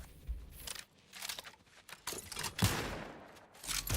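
Bursts of gunfire in The Outer Worlds 2 crackle in rapid volleys, several loud clusters separated by brief lulls, up close and harsh.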